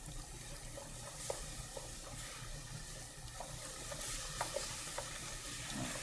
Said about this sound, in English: now I'm going to stir in more of that milk